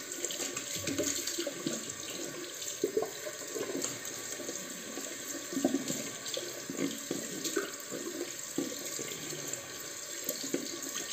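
Bathroom sink tap running steadily while cold water is splashed on the face, a continuous hiss of flowing water with intermittent splashes.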